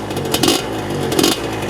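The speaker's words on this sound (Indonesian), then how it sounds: "Tapi suaranya, ini motor gue begini suaranya" An old Suzuki Satria 120R two-stroke motorcycle with an aftermarket exhaust idles close by, its engine putting out a steady raspy drone with two brief rises in revs.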